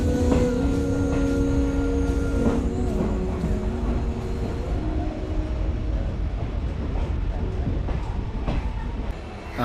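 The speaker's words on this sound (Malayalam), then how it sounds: "ഇതാ ഒരു ട്രെയിൻ ഇതാ വന്നു" A passenger train running from Nilambur to Shoranur pulls into a station, its loud, steady rumble and wheel clatter close by and continuous, with horn-like tones early on and faint voices in the background.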